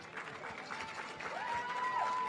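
Audience applause at the Miss Universe 2017 preliminary competition at Planet Hollywood Resort and Casino, steady clapping from a large crowd, moderately loud and continuous, with a sustained tone rising underneath midway.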